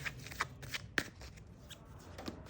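Tarot cards shuffled and drawn by hand, a run of soft papery riffles and flicks with one sharp snap near the middle, close up and quiet, with no talking.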